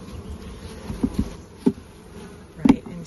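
Honey bees buzzing around hive frames, a soft close buzz with a few brief louder passes of single bees.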